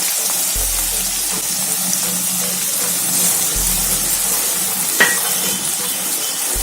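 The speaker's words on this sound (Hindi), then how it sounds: "अब हम 1 टेबलस्पून हींग डालेंगे।" Asafoetida goes into hot oil for a Rajasthani whole-onion curry, and the pan answers with a steady bright sizzle and a few soft stirring scrapes and low thuds, close and uninterrupted by speech.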